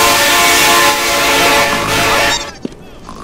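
A train roars past in the Roblox game Evade, its loud horn blaring over rumbling wheels for over two seconds before the noise suddenly cuts away, leaving a quiet tail with a brief click.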